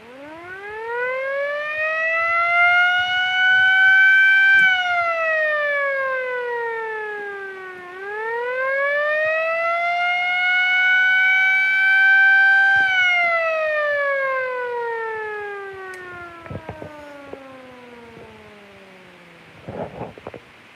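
A 12-port Federal Signal Model A siren winds up to a loud wail, dips, rises again and then slowly winds down, sounding close indoors, with a few knocks near the end.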